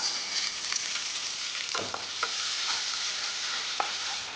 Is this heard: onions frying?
yes